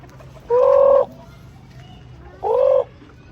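Two short, loud vocal bursts from hens, spaced about two seconds apart, stand out near and clear over low background noise, with no talking.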